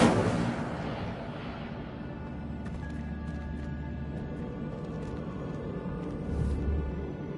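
A fire spell cast in Hogwarts Legacy: a sustained rumbling, crackling blast with a low roar running steadily through the clip and swelling again near the end, loud over faint game ambience.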